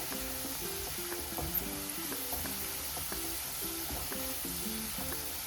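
Garlic browning in hot oil in a pan while making an onion-garlic masala, giving a steady close sizzle and crackle throughout, with faint stirring and no talk.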